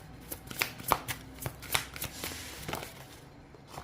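A deck of oracle cards being shuffled by hand during a card reading, with a run of quick riffling flutters and soft slaps, close and fairly loud, with no talking.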